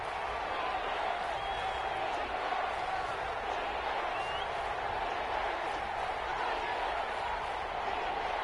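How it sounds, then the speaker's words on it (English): Stadium crowd noise inside the Dome during an American football video game, a loud, steady wash of cheering and roar that barely changes, with faint talk beneath it. "The crowd here in the Dome making things difficult."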